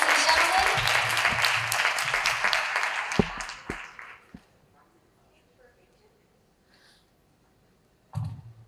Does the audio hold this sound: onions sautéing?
no